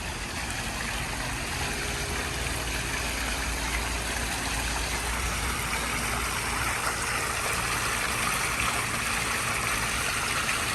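Spring water flows steadily at Warm Springs, a continuous broadband rush and trickle heard close up, even in level throughout with no talking.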